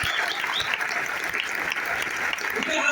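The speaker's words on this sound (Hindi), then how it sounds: "एक बार जोरदार ताली दो" A large audience at a direct-selling company event applauds loudly on cue, a dense, steady roar of clapping that holds for the full three seconds.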